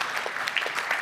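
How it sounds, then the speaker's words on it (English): An audience at a business Q&A panel breaks into a short, dense burst of applause, many hands clapping at once with a steady, full wash of claps. "That deserves a round of applause."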